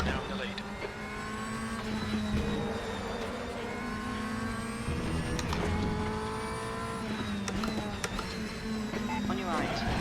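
A race car engine in the RaceRoom driving game, a GT2 car on track, drones loudly and continuously through a lap, the pitch climbing and dropping with gear changes, with brief tire squeal and a voice talking over it.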